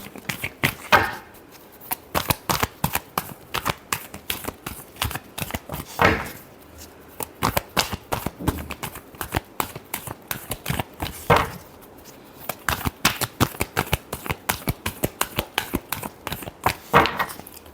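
Tarot cards shuffled by hand in rapid bursts of crisp riffling flutters, close and fairly quiet, with brief pauses between rounds and no talking.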